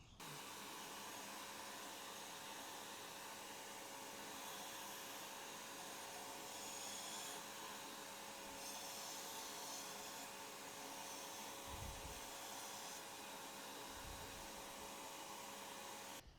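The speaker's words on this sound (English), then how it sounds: "hopefully record me sucking it out with the vacuum" A shop vacuum runs steadily, sucking debris out of the open engine of a 2019 Honda CBR1000RR during a valve clearance adjustment, a continuous close whooshing drone with a couple of brief low bumps.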